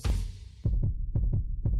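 A heartbeat sound effect plays alone, a pair of deep, thumping low beats repeating in a steady, pounding rhythm, loud and close.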